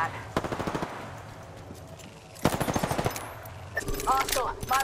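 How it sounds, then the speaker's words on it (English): Rapid automatic gunfire in the Apex Legends battle royale game crackles in several bursts, with a short clatter near the start, a heavier volley midway and brief game voice lines and sounds near the end. "Getting shot at."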